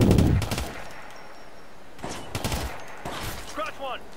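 Bursts of video game gunfire crack out in a few separated volleys, with a player's voice briefly heard between shots during an online shooter match.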